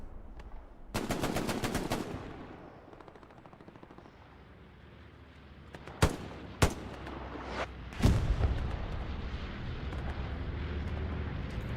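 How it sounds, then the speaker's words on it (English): An Allied bombing run strikes during a Hell Let Loose match, with a rattling burst of machine-gun fire followed by a rolling rumble and several sharp, heavy explosions. "We do have, I think, an Allies bombing run."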